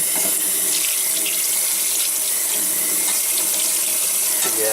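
Hot water runs steadily from a tap into a sink while rusty old metal pieces and chain are being cleaned, a continuous close hiss and splash with no talk.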